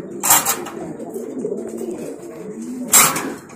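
Fancy pigeons, a grey bar and blue bar pair, coo softly and steadily in a low murmur, with two brief louder bursts of wing or movement noise near the start and end.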